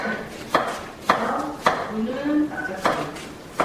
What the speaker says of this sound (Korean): 냄비에 물 4컵을 넣고 무 납작썰기 해서 끓여주는데